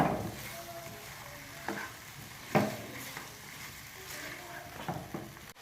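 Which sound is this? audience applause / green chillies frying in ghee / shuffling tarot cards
green chillies frying in ghee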